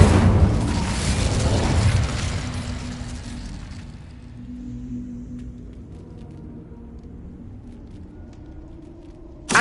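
An Incendio fire spell cast in Hogwarts Legacy erupts as a loud, roaring burst that holds strong for a few seconds, then fades into a quieter low rumble and crackle before a sharp sound at the very end.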